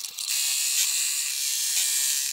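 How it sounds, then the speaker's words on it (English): A computerized embroidery machine stitches out the final pass of a Santa cinch sack design held in its hoop, giving a loud, steady mechanical whir and rattle close by with slight surges in pace. "I'm gonna return the hoop to the machine for the final stitch out."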